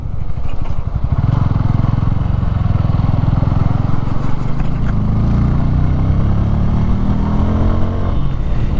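A 2024 Bajaj Pulsar N150 motorcycle engine runs loud and close while riding, with a steady rumbling drone that climbs in pitch toward the end as the bike accelerates.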